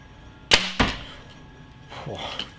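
Arrow loosed from a Hoyt Klash compound bow, a sharp twang of the string with a harsh, buzzy release, followed moments later by a single thud of impact, then faint handling noise.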